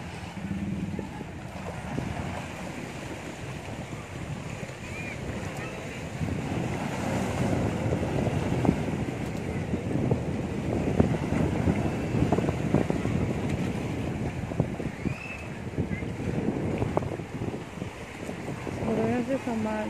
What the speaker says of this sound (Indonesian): Ini makin gede ombaknya